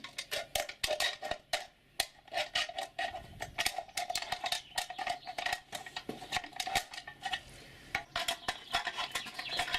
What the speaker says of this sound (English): now the next stage is to cut the can